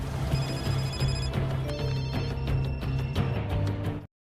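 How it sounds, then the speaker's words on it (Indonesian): Assassins' mobile phones ringing at once in a John Wick film scene, a dense layered chorus of electronic ringtones and trilling bells pulsing rhythmically for about four seconds before cutting off abruptly. "seketika itu semua ponsel para pembunuh bayaran di kota itu berdering"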